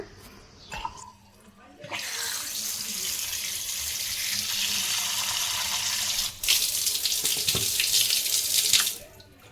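Tap water gushes steadily into a sink while raw chicken is rinsed for frying, a loud close hiss with a brief pause midway and a few clatters.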